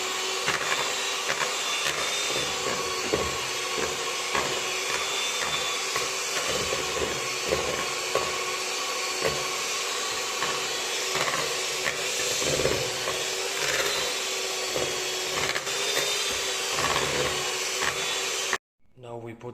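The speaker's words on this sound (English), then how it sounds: "I mix it again." Continuous whirring drone of an electric mixer beating chocolate cake batter in a home kitchen, steady and fairly loud for nearly twenty seconds before cutting off abruptly.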